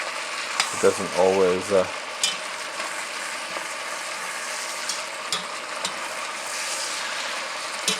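Fat frying in a pan with chicken: a steady, soft crackling sizzle with occasional sharper pops, close by, with a brief spoken line near the start.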